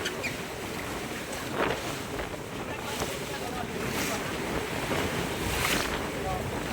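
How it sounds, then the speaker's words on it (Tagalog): Continuous roar of wind and surging sea water on big waves during a tuna fishing trip, with waves washing through every few seconds and heavy wind buffeting the microphone. "Malaki ng alon."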